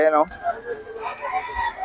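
A rooster crows briefly as a voice talks over a busy, murmuring background of birds and people at a chicken market in Bocaue.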